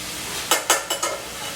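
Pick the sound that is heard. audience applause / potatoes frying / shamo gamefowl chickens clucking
potatoes frying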